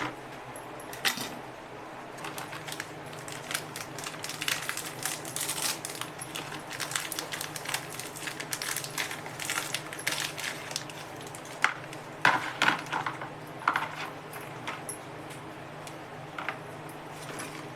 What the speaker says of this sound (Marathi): ती क्रीम सुरीने किंवा चमच्याने काढून घेणार आहे बाजूला अशी.